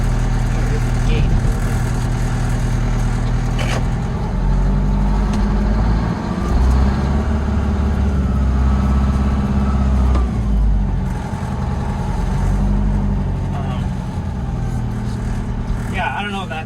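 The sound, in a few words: Detroit 8V71 two-stroke diesel truck driving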